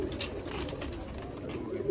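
Red-eyed pigeons coo in a loft along the Sialkot border area, a low continuous cooing murmur close by with steady background noise.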